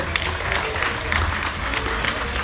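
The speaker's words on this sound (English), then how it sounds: "Round of applause." Crowd applause from an audience at a Magic Kingdom show, a steady dense wash of clapping that fills the whole short stretch.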